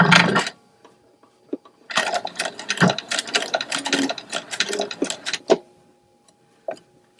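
A sewing machine stitches gathers in short bursts of rapid mechanical clatter, with a few isolated clicks and pauses in between, close and fairly loud.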